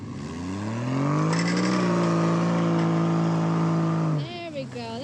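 A truck strains and revs under load while pulling a stuck vehicle free in snow on a 30-foot Factor 55 kinetic rope. The engine holds a loud, sustained drone for several seconds, then drops away as people talk.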